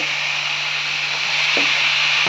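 Paneer sukka is stirred in a pan: a steady close sizzle with soft scraping of the spoon, and a couple of light knocks against the pan.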